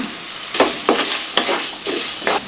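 Spices sizzle in a hot pan while a spoon stirs, giving a crackling fry with several scraping strokes at irregular intervals, for a potato kurma.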